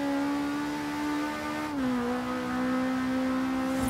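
A Ford Escort RS1800 Hoonigan in Forza Horizon 3 holds a loud, sustained engine drone. The pitch dips briefly midway as if shifting gear, then steadies again, with no talking.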